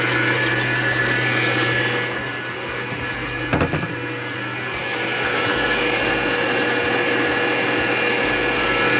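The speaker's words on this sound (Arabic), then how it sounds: "اول حاجه بضرب البيض وبضربه كويس جدا، بديله وقت في الضرب" Eggs are beaten with an electric mixer for a milk and caramel cake batter, a steady loud motor whine running without a break, with one brief knock of the beaters against the bowl midway.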